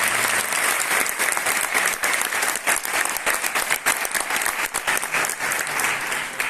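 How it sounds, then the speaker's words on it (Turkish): Sustained audience applause fills the room at the opening of a youth leadership training program in Antalya, dense and steady clapping from a large crowd lasting the whole stretch. "Hepsine çok büyük bir alkış istiyorum"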